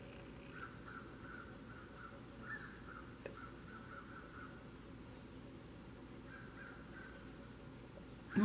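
A crow caws several times at a distance over a faint steady hiss, the calls spaced out with long gaps between them and no talking.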